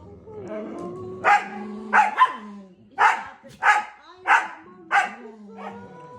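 A dog gives a series of sharp, close barks, about seven in a row with short pauses between them, some followed by whiny yelps.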